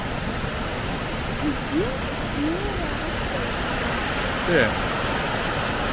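Steady broadband roar of Kegon Falls in Nikko, Japan, a continuous rush of falling water filling the clip, with brief faint voices surfacing over it.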